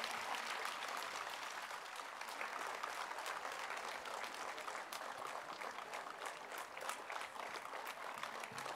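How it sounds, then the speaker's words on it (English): Audience at a 2023 IB school graduation ceremony claps steadily in sustained dense applause, a broad wash of many hands filling the hall without pause, fairly distant and even throughout. "may I request you for a huge round of applause"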